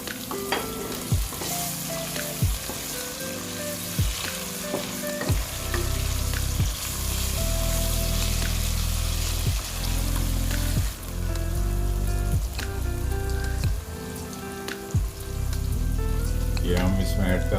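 Tomatoes added to meat cooking with ginger in a hot pan sizzle and fry loudly and steadily, with stirring scrapes and a few clinks throughout.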